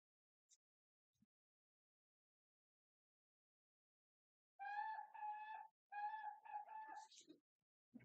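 A small bird sings indoors: after near silence with a couple of faint ticks, several loud, clear harmonic chirping phrases arrive in quick succession, followed by a few shorter high notes.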